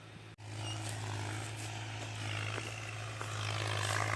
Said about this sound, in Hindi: तो ये देखो हमारे खेत में चल रहा है ट्रैक्टर